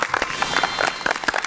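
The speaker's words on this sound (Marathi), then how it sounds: "एकदा जोरदार टाळ्या होऊन जाऊ देत" Studio audience of a Marathi television game show clapping, a brief burst of moderately loud mixed applause with scattered individual claps, no talk over it.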